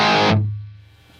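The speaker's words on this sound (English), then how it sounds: "So that's with the pull distortion" Electric guitar played through a Metaltronix amp with its pull distortion engaged, one loud distorted chord struck and left to ring, its bright overdriven crunch fading into a low sustained drone.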